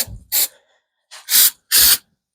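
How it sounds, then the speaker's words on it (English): Three short bursts of spray hiss from a can, close and loud, separated by brief pauses. "So I want to spray this here."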